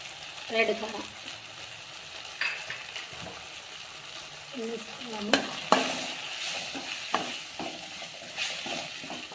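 Spices fry in a pan for tomato paratha: salt, coriander masala and red chilli powder. A steady sizzle runs under repeated scraping and clinking strokes of a stirring spoon, close and moderately loud.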